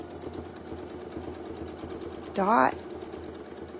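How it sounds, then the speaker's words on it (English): A sewing machine stitches a border design in one short, loud burst of whirring partway through, set against steady room hum while a person talks over it. "Just keep on sewing"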